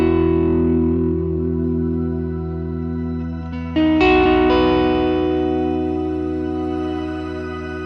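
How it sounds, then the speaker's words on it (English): Sustained guitar chord through a Fractal unit set to an SFX Ursa Major reverb, ringing with a dense shimmering tail, then a fresh chord struck partway that swells and decays slowly, with no voices. "Go to reverb, for example, and you can change the reverb to SFX Ursa"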